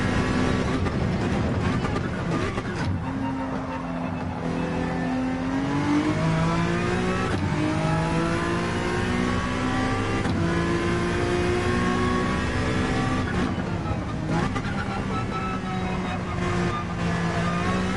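A race car engine in Gran Turismo revs and climbs through gears, its loud tone rising and falling in sweeps through the lap while someone talks over it.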